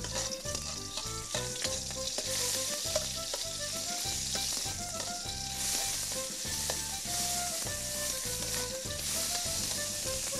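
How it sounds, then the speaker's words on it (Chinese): Shredded pork stir-fried in hot oil in a wok, a loud continuous sizzle broken by rhythmic clanks and scrapes of a spatula tossing the meat, with no talking. "现在呢，我们的油锅热了，啊，把我们这个肉丝先炒一下"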